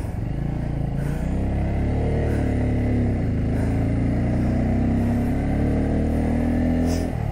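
Motorcycle engine pulling steadily in third gear on a hill ride up Kollimalai, loud and close, a continuous droning roar with slight shifts in pitch as it climbs.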